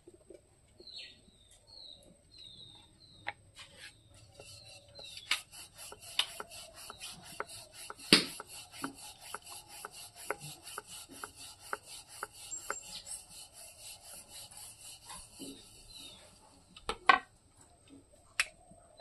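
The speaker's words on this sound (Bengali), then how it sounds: "আমি এখন ময়দা আটা মাখিয়ে ডলে নেব।" Hands rub and knead flour-dusted dough for a banana snack, a steady close run of soft scuffs and pats with sharp slaps and taps scattered throughout.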